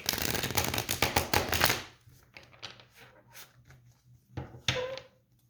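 Tarot cards being shuffled close up, a burst of rapid riffling and flicking that gives way to a few scattered soft card taps and slides.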